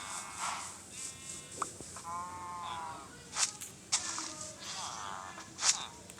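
A goat in a survival video game set at a Qurbani animal market bleats several times in wavering calls, loud and close, with voices talking over it and occasional footsteps.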